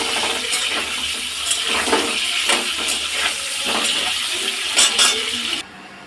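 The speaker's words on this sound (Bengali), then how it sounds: "তেলটা গরম হয়ে গেছে, আলুগুলো ছেড়ে নিয়েছি, লাল লাল করে একটু ভেজে নেবো।" Potato pieces frying in hot oil give a steady close crackle and hiss, with brief louder splutters, carrying on without any talk until it cuts off near the end.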